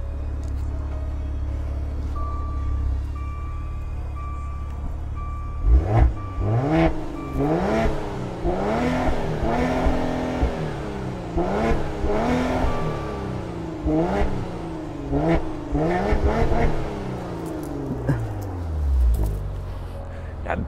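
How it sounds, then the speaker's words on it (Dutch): A 2019 Maserati Levante S Q4 GranSport sports SUV, in sport mode, idles with a low rumble and then is revved again and again, each sharp climb and fall repeating loud and close, with faint talk underneath. "een Maserati koop je toch vooral vanwege het motorgeluid"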